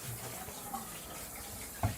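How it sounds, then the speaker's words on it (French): A home shower runs in a bathroom, a faint, steady hiss of falling water with a soft knock near the end. "ce que vous entendez, c'est rien, c'est la douche"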